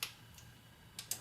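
A torque wrench clicks while tightening water pump bolts to 11 foot-pounds on a Cadillac CTS, giving a few faint, sharp ticks against quiet background.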